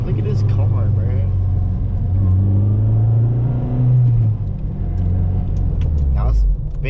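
A Honda Integra DA9 fitted with a short shifter runs with a loud, close engine drone and low rumble that rises and falls while driving, and people talk over it.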